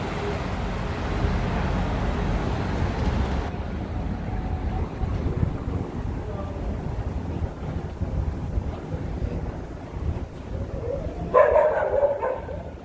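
A dog barks on a New York City street during an evening walk, under steady wind noise against the microphone and general street rumble. The barking is not clearly separated from the background.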